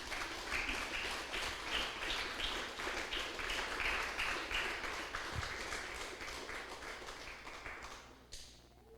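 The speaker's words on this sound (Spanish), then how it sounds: "Denle un aplauso fuerte al Señor" A church congregation at a Spanish-language service claps together in a steady rhythmic beat, fairly soft and roomy, continuing for several seconds before fading out.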